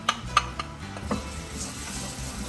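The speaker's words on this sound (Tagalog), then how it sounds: "unahin natin ang pagigisa ng walang katapusang bawang at sibuyas natin, garlic" Garlic and onion sautéing in a pan for spaghetti, with a few close utensil scrapes and knocks early on, then a steady soft sizzle and stirring underneath. No talk.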